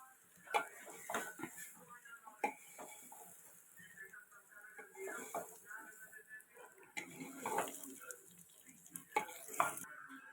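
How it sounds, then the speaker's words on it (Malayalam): Soaked rice is stirred in dalda in a pan while making biryani rice, with scattered scrapes and clinks of a spoon against metal over a faint, low sizzle. "ഇതും ഈ ഡാൽഡയിലൊന്ന് ജസ്റ്റ് ഒന്ന് വഴറ്റിയിടുക"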